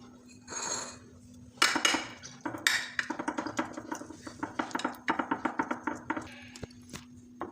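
A spoon presses dry fruits into banana barfi in a dish, making a quick run of sharp, close metallic taps and clicks that come in irregular bursts and grow denser toward the end.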